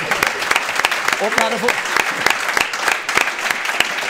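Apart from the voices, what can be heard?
live audience applause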